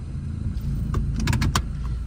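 A car settling into a front parking spot in Germany: a low engine rumble close by, with a short whirring burst like a power window near the end.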